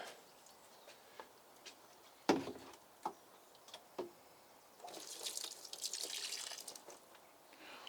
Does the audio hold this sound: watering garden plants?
yes